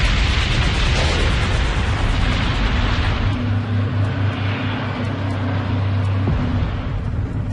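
A dense, roaring rumble of Boeing 747 explosions and fire from the Tenerife airport collision fills the whole stretch, loud and continuous with low booming undertones and no voices.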